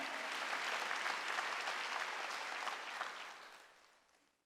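A church congregation at a Sunday worship service bursts into dense, sustained applause that holds steady for several seconds before gradually fading out.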